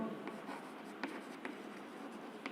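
A pen writes an accounting entry by hand on paper during a financial accounting lecture, giving soft scratchy strokes with a few sharper taps, close and quiet, with no talk over it.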